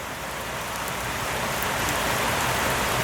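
Steady, dense rain pours down outdoors where a chicken is out getting drenched, a loud continuous broadband hiss of drops on surfaces with no talking, holding even and close throughout.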